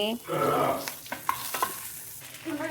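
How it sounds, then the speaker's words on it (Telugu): Ranapala leaves with green chillies and garlic are stirred and fried in a pan, giving a loud sizzle up front followed by scraping, clattering strokes of the stirring spoon close by. "మిక్స్ చేసుకొని ఆకుని మగ్గనివ్వాలి"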